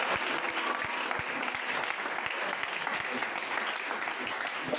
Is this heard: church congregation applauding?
yes